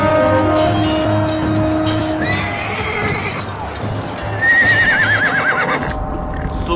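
A horse neighs with a long, wavering whinny, then a second rising, quavering neigh, loud and close over a busy background of hooves and low rumbling.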